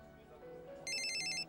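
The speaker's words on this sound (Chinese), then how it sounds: "我接一下电话。" A phone ringtone starts up partway through, a bright electronic trill lasting about half a second, heard close over a low room murmur.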